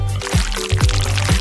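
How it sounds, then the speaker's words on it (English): Rainbow-colored jelly liquid glugs as it is poured into a bottle, making a few quick, close gurgling surges over a brief moment. "Now we have to pour it all into the bottle."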